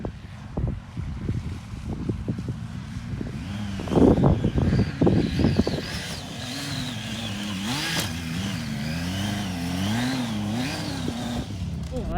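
A Triumph Tiger 800 XCA motorcycle rides off-road, its engine revving hard in third gear with rising and falling pitch, close and steady, mixed with wind buffeting on the microphone and someone talking over the first half.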